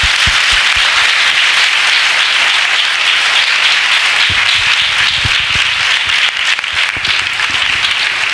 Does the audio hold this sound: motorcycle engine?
no